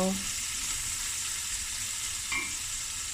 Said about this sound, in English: I'm going to fry it lightly, not too much